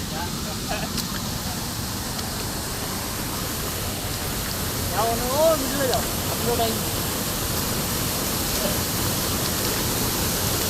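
A waterfall roars as a steady, dense wash of falling water close by, filling the whole clip evenly, with faint voices briefly heard partway through.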